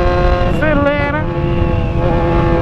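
A motorcycle engine revving hard and close, its droning tone rising and wavering as it accelerates, loud and continuous.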